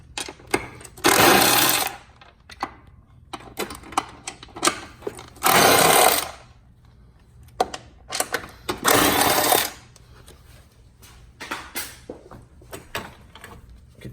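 Bolts come out of the front tray of a Fiat 124 Spider during an intercooler install. Three loud, close bursts of a whirring power tool, each lasting about a second, alternate with quieter clicks and handling noises.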